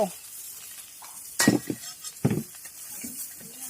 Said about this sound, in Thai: นี่อ่ะน้ำดาผัดครับกะเพรา